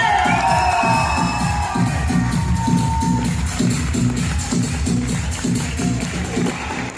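Audience at a Safe Shop network gathering in India bursts into loud sustained clapping and cheering, a dense rhythmic wash of hands with shouts and a few raised voices over it, filling the whole stretch.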